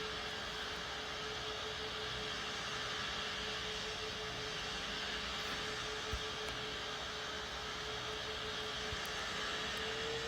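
Airbus A380 jet engines descending to land in the video game PTFS: a steady, even engine roar with a constant high whine, holding at a moderate level without pauses for the whole stretch.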